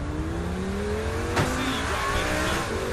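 A car engine hums steadily with a brief sharp whoosh midway, a vehicle driving in the video game Saints Row IV, with no talking.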